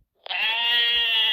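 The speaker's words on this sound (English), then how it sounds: "Sheep." A single sheep bleat from an animal sound app, starting abruptly and holding as a loud, steady, wavering tone until the end, with no talking.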